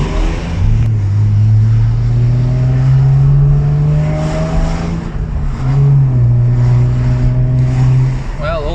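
A 1996 Nissan Skyline R33 petrol car, just recovered from a diesel misfuelling, drives along with its engine droning and rising in pitch through the gears. The loud, steady engine note sits up close inside the cabin.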